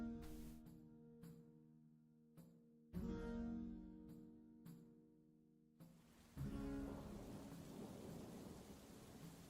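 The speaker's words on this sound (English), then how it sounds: "it does in fact happen to be a rainy day." Rainy-day ambience plays as background for a tabletop role-playing session: steady rain hiss with low rumbles that swell and cut off abruptly in sections, fairly faint and without talk.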